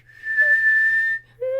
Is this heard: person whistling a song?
yes